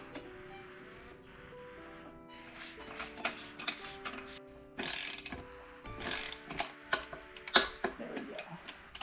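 Crank arm being fitted to a Trek Marlin bicycle with a narrow-wide chainring, giving a series of close metallic ratcheting clicks and ticks of varying loudness, with tonal background sound underneath.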